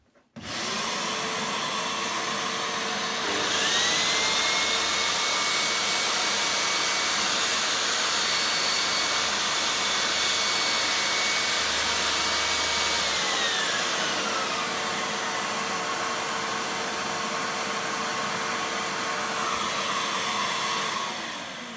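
A DeWalt DWS773 mitre saw runs up to a loud, steady whine and holds it for about twenty seconds while making a cut, then winds down at the end, with no one speaking.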